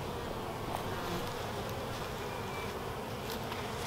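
Honey bees buzz at a hive entrance in a thick, steady drone, close and fairly loud, with a few louder passes of individual bees and no voices.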